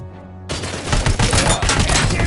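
Dense, loud gunfire breaks out suddenly after a quiet moment in RoboCop: Rogue City, a continuous barrage of shots and impacts that lasts for the rest of the moment with no talking.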